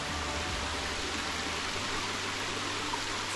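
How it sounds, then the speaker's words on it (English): A waterfall on the Warrie Circuit bush walk makes a steady, even rush of falling water, a constant hissing roar heard from a moderate distance with no voices. "Came to the first waterfall."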